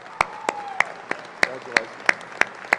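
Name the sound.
audience applause for graduates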